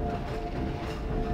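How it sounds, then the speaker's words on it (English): A train rolls steadily along its rails in Half-Life 2, giving a continuous, even rumble with a low mechanical drone and no pauses or speech. "Oh great, another train section."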